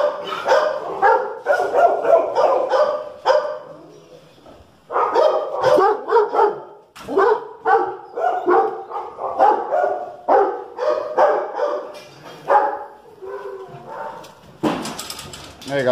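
A very aggressive dog in a kennel barks repeatedly at close range in rapid bursts with short pauses, mixed with rattling and clanking noises and some voices.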